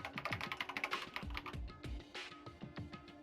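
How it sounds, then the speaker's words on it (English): Keyboard typing sound effect from the video game Danganronpa Trigger Happy Havoc, a quiet rapid clatter of keystrokes with a few heavier clicks, with no voices over it. "Kyoko's finger glided across the keyboard."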